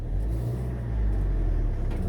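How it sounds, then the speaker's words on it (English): A truck engine revs with a deep, close rumble that swells and eases over a couple of seconds, with no voices over it. "Revving it a bit much there."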